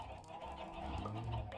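A brief honking cluck from a water chicken in the modded Minecraft pack StoneBlock 4, a short, quiet burst of fowl-like calls.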